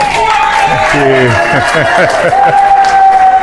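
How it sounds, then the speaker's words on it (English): A comedy-show audience at a golfers' event applauds and cheers to welcome a comedian to the stage, with loud, steady clapping and crowd noise throughout and bright whoops rising over it. "please welcome and a big applause to our own William Baker."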